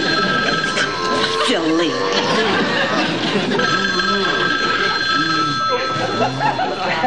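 A telephone bell rings in a sitcom living-room scene, its repeated electric ringing running steadily through the clip beneath overlapping dialogue and a short spoken line.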